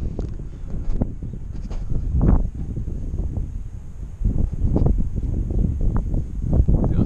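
Steady outdoor wind buffets the microphone throughout beside a container house being painted, with a low rumbling roar and gusty surges, and no voices.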